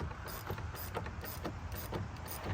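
Ratchet cranking on a steering wheel adapter during a Boston Whaler wheel swap, a steady run of rapid clicking pawl strokes close up, no talking.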